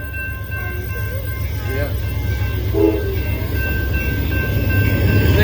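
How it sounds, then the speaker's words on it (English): A southbound Amtrak Texas Eagle passenger train approaching at Stassney Lane in Austin, Texas, with a steady low rumble, a short distant horn blast, and people talking nearby. "Anyways, here comes Amtrak."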